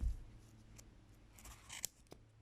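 Sharp, pointy scissors snip through yarn around a card doughnut to open a pom-pom, with a few faint, quick cuts and a brighter snip near the end in a quiet room.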